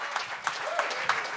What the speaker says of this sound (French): Applaudissez Steve, là.